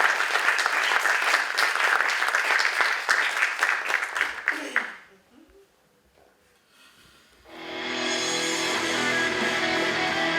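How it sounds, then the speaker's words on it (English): A hall audience at a film festival talk applauds a speaker coming to the stage, a dense burst of clapping that cuts to near silence, then a softer, even wash of sound returns. "give a round of applause and welcome to the stage Arna Magnea Danks"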